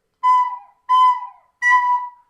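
Recorder sounding three short separate notes, each untongued at the end so it sags and trails off, clear and close with silence between them.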